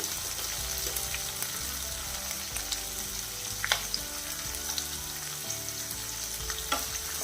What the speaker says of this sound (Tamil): வெங்காயம் முக்கால்வாசி வதங்கிடுச்சு.